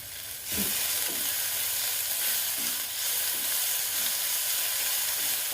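Egg capsicum masala sautéing in a pan with salt, a dense, loud hiss of frying that starts abruptly and holds steady, with a few soft stirring knocks underneath.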